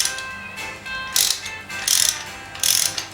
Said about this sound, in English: Best use a socket to loosen it up.